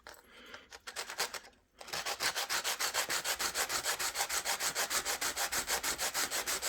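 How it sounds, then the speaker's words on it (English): A fabricated silver pendant sanded flat on its bottom: a brief irregular rub, then a steady run of fast, even back-and-forth scrapes, close and continuous. "Give it a little sand on the bottom to make sure it's nice and clean and flat"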